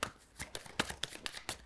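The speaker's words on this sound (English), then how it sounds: "I take this card and shuffle my discard pile to make 4 new draws." A discard pile of Harry Potter: Hogwarts Battle board game cards is shuffled, a quick close run of crisp riffling snaps and slaps with no talk.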